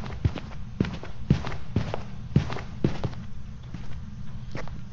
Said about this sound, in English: Is that you making all those big footsteps?